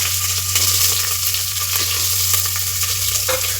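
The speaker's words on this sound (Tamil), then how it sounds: "வெங்காயம் போட்டுக்கோங்க." Onions frying in a pan for a dried-fish curry gravy, loud steady sizzle with occasional scraping stirs and a low background hum, nobody speaking.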